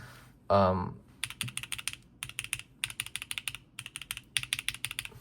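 Rapid bursts of typing on a Neo75cu mechanical keyboard, crisp close clacks in quick irregular runs with short pauses, preceded by one brief louder knock near the start.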